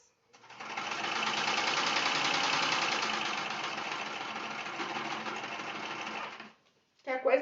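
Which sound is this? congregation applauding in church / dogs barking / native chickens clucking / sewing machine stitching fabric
sewing machine stitching fabric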